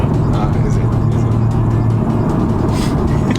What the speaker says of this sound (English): BMW 6 cylinders just sound so good